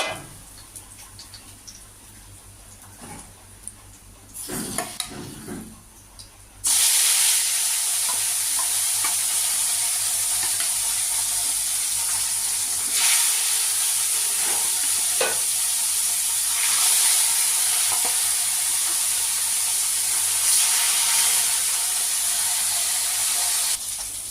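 Katla fish sizzles loudly in hot oil after a quieter opening with a few handling clatters, then a steady, close frying hiss with occasional pops and turning sounds; no voices.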